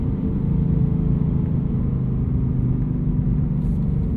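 2024 Ford Mustang Dark Horse with a 500hp V8 and six-speed manual cruising on a street, a steady deep engine rumble heard from inside the cabin, continuous and moderately loud.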